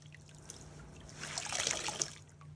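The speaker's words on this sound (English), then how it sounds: "I can just dump this water out into my yard again" Wool-scour wash water with biodegradable scouring agent is poured out into a yard outdoors, a soft trickle that swells into a brief splashing gush before tapering off.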